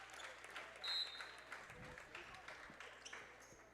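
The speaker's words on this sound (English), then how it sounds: "Gets a round of applause." Crowd applause in a high school basketball gym, moderate clapping and cheering spread through the hall at a low level, with a brief sharp squeak.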